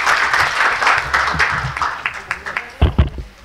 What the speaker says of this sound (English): please give a loud round of applause and let's welcome him